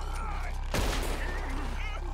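Gunfire bursts out in a shootout on a beach in Red Dead Redemption 2, with a sudden loud blast followed by rapid overlapping shots and crackle beneath ongoing game voices and ambient noise.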